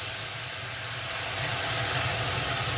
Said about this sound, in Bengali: দেখো এখানে ডালটা ভেজে দিচ্ছি।